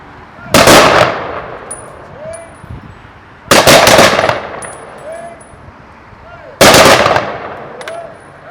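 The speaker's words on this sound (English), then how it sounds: "Color guard, please fire a 3-round volley." Three loud, evenly spaced rifle volleys from a color guard crack out at a Veterans Day ceremony, each a sharp blast with a brief echo, with quiet outdoor ambience between shots.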